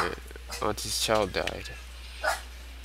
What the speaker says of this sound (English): That was the dog barking.